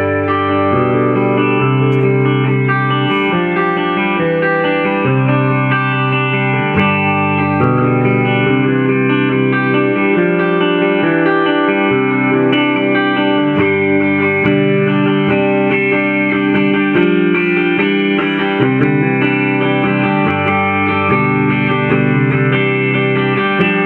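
Fender '72 Telecaster Deluxe electric guitar played with clean tones, sustained chords and notes ringing steadily and loud with some reverb, alone without talk.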